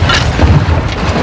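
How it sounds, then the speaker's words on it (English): Artillery shells strike in quick succession in Modern Warfare 2, producing loud, rumbling booms that overlap into a heavy barrage. "Good shots. Fire for effect."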